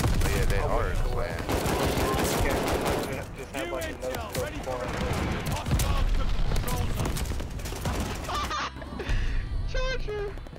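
Gunfire in Call of Duty Vanguard, with dense rapid bursts of automatic shots and sharp cracks that run almost continuously and loudly, while players talk over the shooting.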